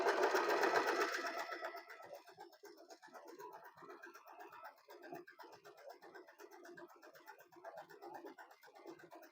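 An Usha Allure DLX sewing machine stitching, a loud burst of rapid mechanical chatter at the start that settles into a steadier, quieter run of needle clatter with faint coos in the background.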